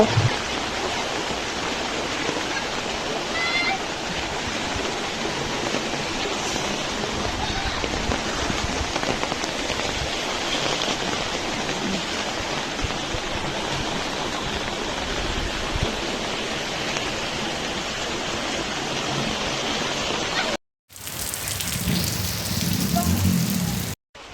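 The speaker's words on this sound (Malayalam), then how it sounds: "രാവിലെ കുറച്ചു നേരം നിർത്താതെ പെയ്ത മഴയിലാണ് കേട്ടോ അങ്ങനെ ഒരു സംഭവം ഉണ്ടായിരിക്കുന്നത്" Steady, heavy rain pours down in a dense, continuous hiss, briefly cutting out near the end before resuming just as strong, flooding the road with water.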